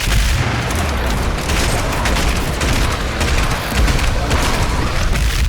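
Combat shotgun blasts from Doom Eternal tear into enemies in a dense, relentless barrage of booming shots and gory impacts, loud and continuous with no gaps.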